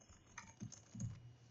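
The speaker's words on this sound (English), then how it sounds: "The keyboard, however, is very quiet." Quiet keystrokes tap on the keyboard of an Alienware 13 OLED laptop, a few soft, muted clicks in a short irregular run, close and low in volume.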